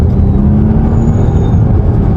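A 407 hp Volvo XC60 hybrid with front and rear motors accelerates gently, producing a loud, steady low rumble and road noise with a faint electric whine over it.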